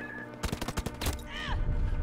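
A rapid burst of several sharp gunshots crackles close by in Battlefield 2042, followed by a brief whooshing, electronic sweep and a low rumble, with no one speaking.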